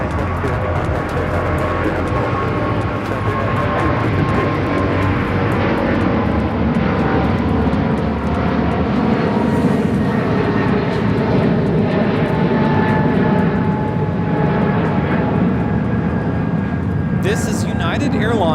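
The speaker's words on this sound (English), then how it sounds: "This is United Airlines 3922 taking off to San Francisco on the 777-200ER" United Airlines Boeing 777-200ER taking off from Los Angeles airport, a loud continuous jet engine roar with a rumbling low end building and holding throughout, a voice speaking over it.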